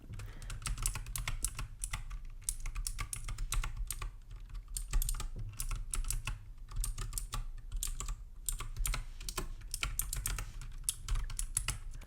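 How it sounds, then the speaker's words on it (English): Steady close-up typing on a computer keyboard, a continuous run of soft rapid key clicks with short pauses throughout, heard alone at a gentle, quiet level in a soft-spoken setting. "Just gonna type some of that in, okay?"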